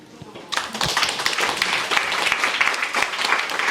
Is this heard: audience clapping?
yes